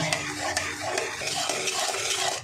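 Homemade soy sauce stirred steadily in a pan, a continuous close scraping and rasping of a utensil against the metal with soft simmering underneath, no voices.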